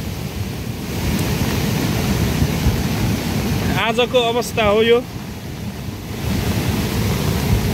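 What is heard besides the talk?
Sardu river in flood, rushing water after heavy rain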